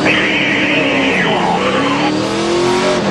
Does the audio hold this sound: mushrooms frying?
no